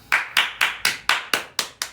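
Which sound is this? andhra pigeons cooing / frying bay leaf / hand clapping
hand clapping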